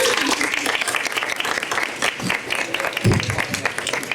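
Audience applause at a campaign launch rally, a dense steady wash of clapping that carries through the short stretch with some cheering mixed in.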